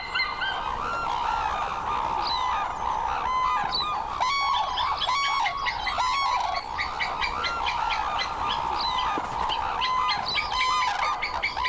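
Cranes guarding a fish meal from crows and fish eagles give loud, repeated trumpeting and honking calls that overlap in a dense chorus, close and continuous over a steady outdoor background.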